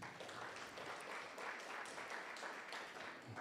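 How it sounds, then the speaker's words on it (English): Audience applause, a steady wash of many hands clapping at a distance, fairly faint, with no voices over it. "Can we clap for them, please?"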